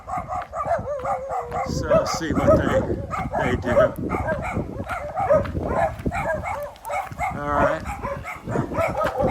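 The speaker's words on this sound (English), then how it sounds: "So the dogs have heard me" Several neighbourhood dogs bark and yip continuously around a rural house in Barotac Viejo, Iloilo, Philippines, loud and overlapping, with someone speaking over the barking.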